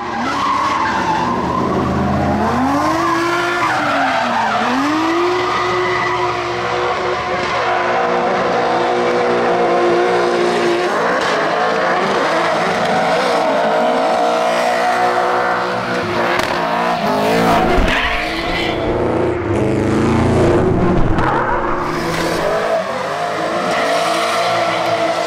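Drift cars slide through the bends of a touge road course, with tyres screaming loud and close, engines revving and straining beneath, and long continuous squeals that rise and fall across the run.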